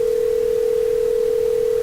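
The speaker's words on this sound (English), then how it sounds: "So I presume we're going to try ringing him again." A steady, unbroken telephone dial tone hums loudly for nearly two seconds before cutting off abruptly, with no voices over it.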